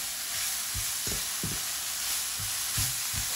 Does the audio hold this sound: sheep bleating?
no